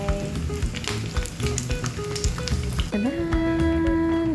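Indian-style chicken fries in a pan with a loud, steady close-up sizzle, occasional stirring scrapes, and a sustained tonal hum joining in partway through.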